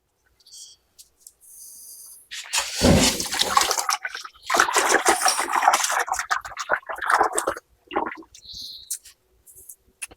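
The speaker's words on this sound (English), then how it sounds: "So warm water, a little bit of Dawn dish soap." Warm water with Dawn dish soap splashes and pours into a bucket, a bright rushing gush that swells and sloshes for several seconds before trailing into small drips and clinks.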